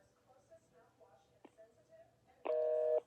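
After a scam caller hangs up the phone, a single steady telephone line tone sounds for about half a second, following a stretch of faint, quiet line noise.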